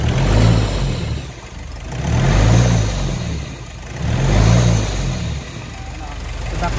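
Nissan NV350 van engine after a turbo actuator repair, revved three times in slow even swells with deep low roar rising and falling, close and loud, with someone talking over it.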